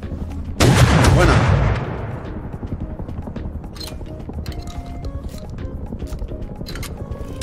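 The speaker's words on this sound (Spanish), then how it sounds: "Va a pegar los dos tiros." Gunfire in the survival video game Rust: a loud, sharp burst of shots near the start rings out and decays over about a second, followed by quieter in-game clatter, with a brief spoken word.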